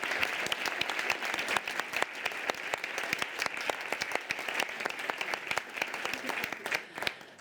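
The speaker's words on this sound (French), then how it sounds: "Je pense qu'on peut toutes les applaudir." Sustained applause from the audience at the Expertes à la Une 2026 launch evening, a dense, continuous wash of many hands clapping at an even level throughout, heard at a slight distance with no speech.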